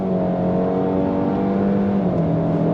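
A 2024 Cadillac XT4 compact luxury SUV accelerating on throttle with quick paddle shifts, its engine drone loud and steady, rising in pitch then dropping briefly at a gear change.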